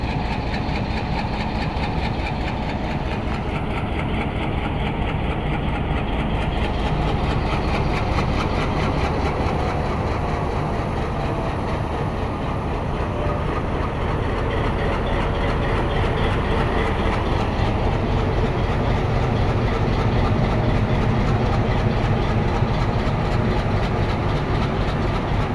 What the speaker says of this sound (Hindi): पाँच से 7 मिनट स्टे करने के बाद अब रवाना हो रही है 46 टाउन पाकिस्तान एक्सप्रेस गिराबाद